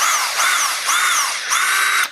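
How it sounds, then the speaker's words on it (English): A power drill bores a countersunk hole into juniper wood for a bonsai, its motor whining loudly in three close bursts that rise and fall in pitch as the bit bites, with no talking. "Now we're going to drill"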